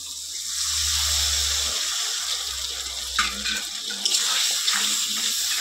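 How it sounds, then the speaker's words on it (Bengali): A little water is poured onto spices frying in a pan for a mutton curry, giving a close, continuous rushing splash and sizzle with small clatters toward the end. "এবার মশলার উপর অল্প একটু জল দেব।"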